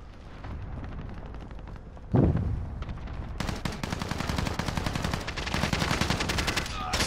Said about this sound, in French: Je prends des balles de l'ennemi.